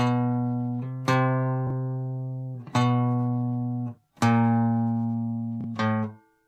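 Separate guitar notes ring out one at a time, each one stopping before the next begins, with short gaps of silence between them.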